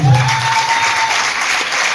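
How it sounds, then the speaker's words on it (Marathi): An audience claps loudly for a lucky draw winner, a dense burst of applause close by that holds steady for the whole moment. "मनापासून जोरदार टाळी पाहिजे."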